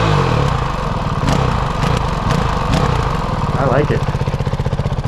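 A Honda CRF 450 RL dirt bike, muddy after a ride, runs at a throaty, loud, close idle with a steady rapid pulse; someone speaks a few words over it.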